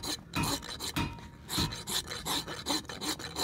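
A rasp files the hoof wall of a splay-footed pony to bevel its edge, giving steady rhythmic scraping strokes about every third of a second, close and distinct with no voice.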